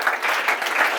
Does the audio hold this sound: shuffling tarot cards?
no